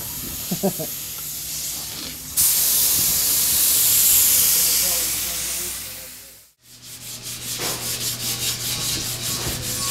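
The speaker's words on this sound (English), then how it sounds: "we're back here again sanding on the 27" Steady abrasive rubbing of sanding on a 1927 car body, close and continuous, with a brief pause then a rhythmic back-and-forth scraping; no talking.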